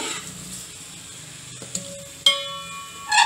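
Vegetables frying with salt, yogurt and spices for a veg biryani give a steady, close sizzle, with a metallic clink of a pan or utensil partway through and a brief ringing tone.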